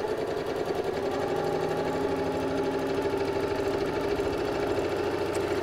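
A sewing machine runs steadily and close by, stitching a fabric cushion cover with a lining, a continuous even mechanical whir with no pauses and no voices.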